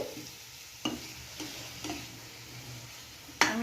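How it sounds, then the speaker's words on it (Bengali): Eggs stir-fried in a pan for egg bhuna, a soft continuous sizzle broken by four or five sharp spatula scrapes and taps against the pan, close and moderately loud. "এখন আমি ডিম দিয়ে কষিয়ে নিচ্ছি।"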